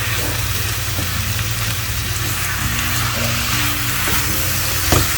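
Steady, loud sizzling and frying of a creamy jalapeno spinach artichoke dip cooking in a pan, with a continuous hiss throughout and a faint clink near the end.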